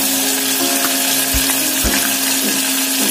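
Slit green chillies frying with sliced onions in hot oil, a steady broadband sizzle with a constant low hum underneath and a couple of soft knocks from a utensil.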